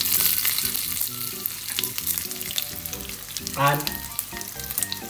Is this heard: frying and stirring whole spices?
yes